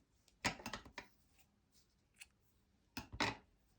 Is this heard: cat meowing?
no